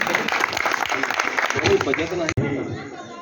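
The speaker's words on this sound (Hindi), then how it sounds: "एक बार जोरदार तालियों से आप उनका स्वागत करें।" Audience at a Ramlila stage event clapping in welcome, a dense wash of applause and crowd chatter that runs throughout, close and loud.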